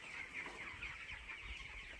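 Chickens in a large poultry farm shed, about 5000 birds, fill the air with soft, continuous clucking and chattering, faint and steady with no voices over it.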